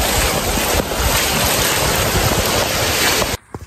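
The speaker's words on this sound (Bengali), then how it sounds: "সবারই বৃষ্টিতে দেখুন প্রচুর বৃষ্টি হচ্ছে।" Heavy rain pours outdoors as a dense, steady wash of hiss close by, running almost unbroken before cutting off near the end.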